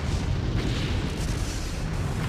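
Ten crimson beams from a black warship slam into the enemy warships in a fantasy audiobook battle, rendered as a dense, sustained rumbling blast with deep booming low end, steady and loud throughout with no speech.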